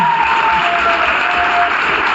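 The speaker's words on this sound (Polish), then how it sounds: "Brawa dla tych seniorów, brawa!" Steady applause from an audience honouring seniors: dense, continuous clapping that fills the whole short stretch at an even loudness without a break.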